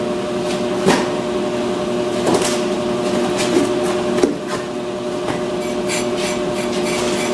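A brake lathe spins with a steady mechanical whir, with a few brief scraping contacts as the cutting bit touches the turning brake rotor.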